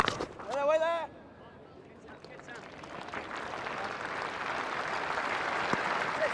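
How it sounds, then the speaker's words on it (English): Cricket crowd at a Sussex versus Nottinghamshire Pro40 final applauding a bowler, a broad sustained wash of clapping and crowd noise building over several seconds after a brief burst of voices at the start. "Good applause for Charlie Shrek."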